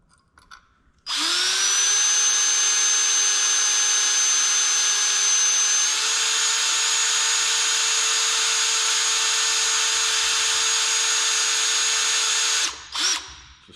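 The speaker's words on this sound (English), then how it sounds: "Except they're not drilling real well." Power drill boring with a small bit into a custom steering column, a loud steady high whine running continuously for about twelve seconds before spinning down, with no talk.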